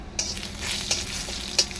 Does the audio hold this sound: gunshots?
no